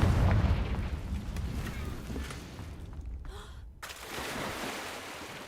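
Confringo spell blast in the video game Hogwarts Legacy, a loud, rumbling fiery burst with sustained roar that briefly cuts out, then resumes as a lingering crackling rumble.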